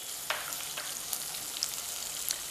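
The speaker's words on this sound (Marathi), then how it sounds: "कांदा चांगला फ्राय करून घ्यायचा आहे अगदी हळद मिठाबरोबर" Finely chopped onions and green chillies fry with turmeric and salt in a home kitchen, a quiet continuous sizzle broken by a few light spatula clicks and scrapes, close by and without voices.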